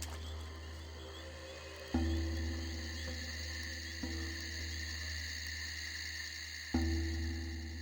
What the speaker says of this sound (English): those crickets are really loud